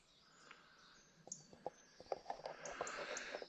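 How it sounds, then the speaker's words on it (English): Birds sing on a fresh summer morning under a blue sky at a bikepacking camp, faint scattered chirps and tweets that grow busier toward the end, heard from a short distance with no talking. "Nothing but the sounds of the birds."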